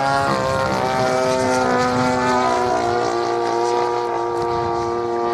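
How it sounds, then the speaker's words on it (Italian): A Yak 18 radio-controlled model airplane with a 60cc engine flies nearby, its propeller engine droning steadily and loudly throughout without a break. "Come va questo motore?"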